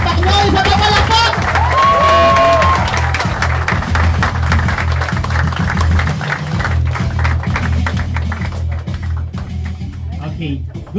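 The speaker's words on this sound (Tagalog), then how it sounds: "isa na palakpak!" Large indoor crowd at a corporate presentation cheering and clapping, loud and continuous, with whoops and raised voices over a steady low musical beat, then fading toward the end.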